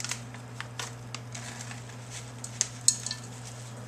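Raw bacon bits being stirred into a bowl of potatoes with onion and parsley: soft scraping and light clinks of a utensil, quiet and close, over a steady low hum, with one sharper clink near the end.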